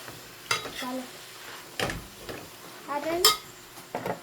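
Chevdo is stirred and tossed in a pan with a spoon, giving several separate scraping and clinking strokes against the metal over a soft background, close up and fairly quiet.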